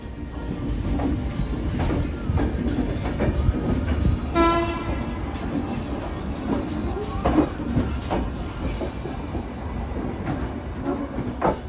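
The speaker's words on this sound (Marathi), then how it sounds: "रात्री 8:30 वाजता खजुराहोवरून निघालेली ट्रेन बरोबर सकाळी 7 वाजता पोहोचली उज्जैनला" A passenger train running from Khajuraho to Ujjain rattles and rumbles continuously, with a loud horn blast cutting in partway and rhythmic wheel clatter throughout, heard from close by.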